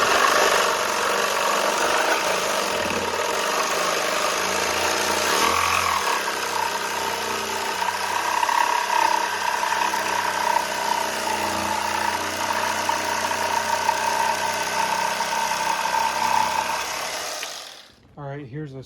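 A vintage auto scroller saw runs steadily with a constant mechanical hum and buzzing vibration, close and moderate in level, cutting off near the end, with someone talking over parts of it.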